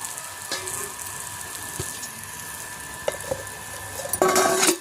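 Chillies fry in a pan with a continuous loud sizzle, a few faint stirring taps, and a surge of bubbling crackle toward the end.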